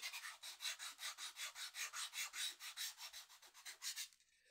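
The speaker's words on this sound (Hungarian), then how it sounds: "Tehát itt a szárnyvégnél óvatosan csiszoljuk meg, inkább kisebb, lassabb mozdulatokkal." Hand sanding of a foam-core model airplane wing near the tip, a steady run of about twenty short, rhythmic rasping strokes, close and clear, with no talking.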